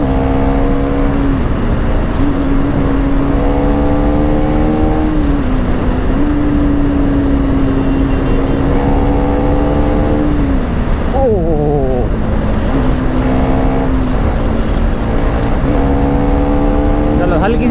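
A motorcycle accelerating hard on a mountain road toward Manali, its engine whining loudly through repeated rising gear pulls with brief shift dips, heavy wind roar throughout and a rider talking over it.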